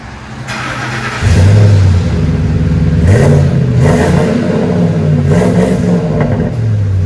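A 2006 Ford F-150 with the 5.4L engine and dual exhaust through Flowmaster 40 Series mufflers revs hard from idle, its loud deep exhaust note rising and falling in several close blips.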